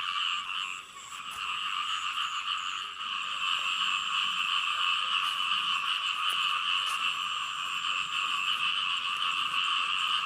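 Frogs in a rice-field area croak in a dense, continuous chorus, a steady buzzing trill that holds throughout with no one speaking.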